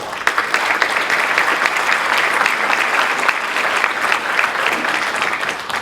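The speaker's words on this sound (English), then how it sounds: "They deserve a great round of applause for what they do." Hall audience at a pharmacy association event claps warmly for the organizers. Full, steady applause runs for several seconds at an even level without pause.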